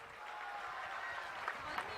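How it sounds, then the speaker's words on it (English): An audience claps for faculty members at a foundation day celebration, a steady, moderately distant round of applause that carries on evenly, with a faint murmur of voices beneath. "Please put a big round of applause for the esteemed faculty members."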